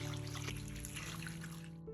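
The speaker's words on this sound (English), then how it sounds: "Then pour in water until the eggs are completely submerged." Water trickles and pours steadily into a bowl holding raw eggs, a close, soft liquid stream with a low hum underneath, ending abruptly.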